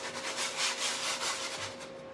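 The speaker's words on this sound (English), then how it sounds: "All right, we're gonna sand this again." A sanding block is rubbed back and forth by hand over chalk-painted wood in quick, even strokes, a soft, close, papery scrubbing with no voices.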